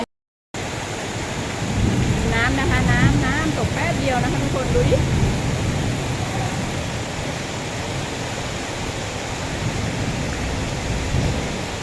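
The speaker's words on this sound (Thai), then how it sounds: "ทุกคนฝนแรงมากนะคะ" Heavy rain pours in a constant roar with low thunder rumbling underneath, while someone talks briefly over the downpour.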